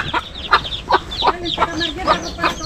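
Chickens on a Philippine farm where a cobra was found among the chicks: repeated nervous clucks and squawks from several nearby birds in quick succession, over a noisy outdoor background.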